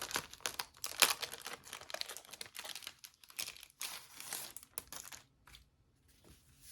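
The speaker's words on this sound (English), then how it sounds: "And sorry if this plastic is loud." Plastic packaging on an A5 notebook crinkles and rustles during an unboxing, in close, irregular bursts that are louder at first and then thin out into sparse crackles.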